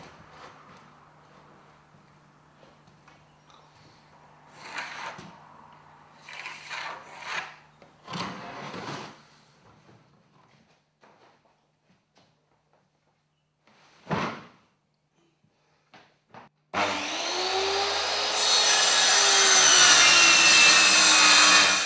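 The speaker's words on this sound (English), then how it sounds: "you saw the installer cutting the edge of this board" A wooden floorboard being cut along its edge by an installer fitting a subfloor over an old cavity: scattered rasping and sawing strokes with pauses, then a loud continuous power-tool whine toward the end.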